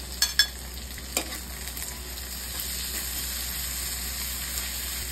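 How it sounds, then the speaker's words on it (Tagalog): Onion, garlic and tomato sautéing in a hot pan, a steady close sizzle with a few sharp clinks and scrapes of a stirring utensil early on, no talking. "Unahin ang sibuyas, sunod ang bawang, tapos kamatis."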